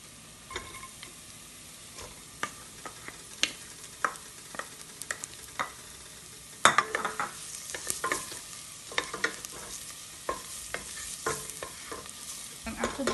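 Garlic and onions frying in a pan for turkey meatballs and sauce, with a steady sizzle broken by repeated scraping stirs; after the midpoint the frying grows louder and busier, close up with no talk.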